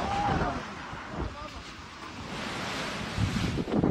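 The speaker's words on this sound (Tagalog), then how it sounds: "Umabot sa resort na ito sa Dipakulaw, Aurora ang mga alon habang nananalasa ang Super Typhoon Pepito." Storm-driven surf from Super Typhoon Pepito reaching a resort in Dipakulaw, Aurora, a steady roar of crashing waves mixed with heavy wind buffeting the microphone, loud and continuous with no voices.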